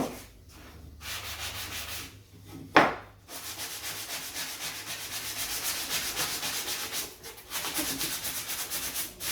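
Marine plywood scrap edges being sanded by hand along the grain, a steady close rubbing rasp that runs almost continuously, with a few brief pauses and one sharp knock partway through.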